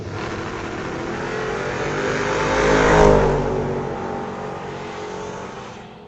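A street-legal Volkswagen drag car launches down the strip at a raceway against a rival car, the engine roaring louder as it passes close around the midpoint, then fading as it pulls away.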